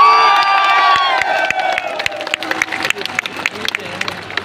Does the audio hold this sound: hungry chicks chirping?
no